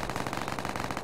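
Rapid gunfire from a sniper rifle in a Roblox game, a fast, even burst of sharp cracks running the whole brief moment.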